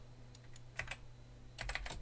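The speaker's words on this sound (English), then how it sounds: "if we type" Keys on a computer keyboard clatter in two short quick bursts of typing, close and fairly quiet over a steady low hum.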